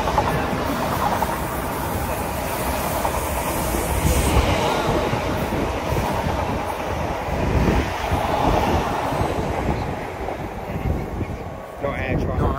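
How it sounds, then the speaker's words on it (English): A train rumbles past by a riverside with wind buffeting the microphone, a loud sustained roar that swells and eases over several seconds; people talk over it. "Not our train."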